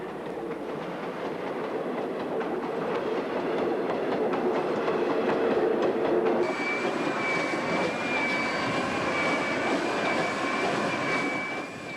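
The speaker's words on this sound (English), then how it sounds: "the locomotives are turned on the triangle at Prince Alfred Hamlet for the return run" A Garratt steam locomotive runs on rails along a mountain branch line to Prince Alfred Hamlet, giving a steady, loud rolling rumble with clattering wheels throughout and a sustained high whine in the second half.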